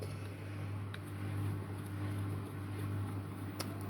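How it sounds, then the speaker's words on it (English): A household washing machine runs in the background as a steady low hum with a constant droning tone, continuous and fairly quiet, with a few faint clicks over it. "excuse the noise in the background, it's my wife's washing machine again"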